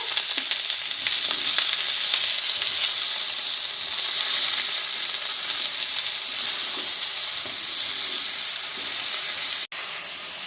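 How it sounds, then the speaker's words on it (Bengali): Potatoes with chopped tomato and turmeric fry in an oiled pan, giving a loud, steady sizzle with stirring scrapes throughout and a brief break near the end. "এখন এখন পরিমাণ মতো হলুদ দিচ্ছি, দিয়ে আরেকটু ভালো করে ভেজে নিতে হবে"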